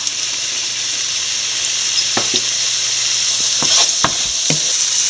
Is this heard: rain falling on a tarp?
no